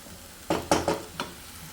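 Coconut masala frying in a pan, heard as several short scraping stirs with brief sizzling bursts close by, alone without talk.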